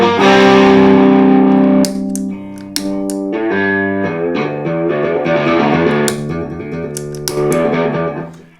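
Electric guitar played through an Electro Harmonix Crayon full-range overdrive pedal set to a clean tone, with loud, ringing chords and single notes that sustain and then drop to quieter picked phrases, heard alone up close.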